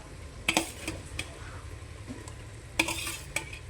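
Brinjal pieces fry in masala for a village-style bombil and brinjal dish, a faint sizzle under intermittent spatula strokes and a few sharp metallic clinks against the pan, close and quiet.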